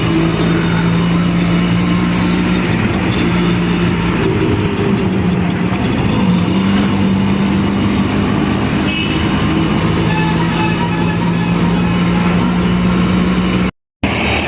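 An auto rickshaw's small engine drones steadily from inside the moving rickshaw, rumbling and whining continuously with slight shifts in pitch, loud and close throughout.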